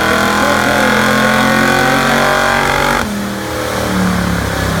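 A 1977 Chrysler Cordoba with a 440 V8 and steel crank roars loudly at high revs on a dyno at a Mopar event, holding a sustained wail before the pitch drops briefly and climbs again.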